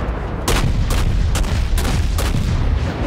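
Naval guns from a Mahan-class US destroyer in World of Warships fire in a rapid, regular series of loud, close booms, about six shots over three seconds against a constant low rumble.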